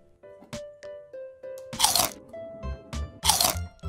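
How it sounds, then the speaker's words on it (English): Crunchy McDonald's French fries are bitten and chewed up close, with several loud crisp crunches coming in bursts among softer clicks and tones. "I know even vampires love to eat French fries."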